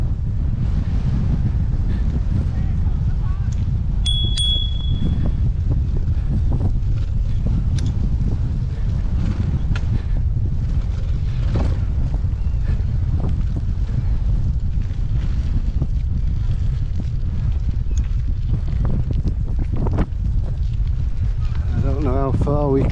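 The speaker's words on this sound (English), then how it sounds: "It's very windy, as you can probably hear." Strong wind buffeting the microphone at Crosby Coastal Park, a constant loud low roar lasting throughout, with faint background sounds underneath.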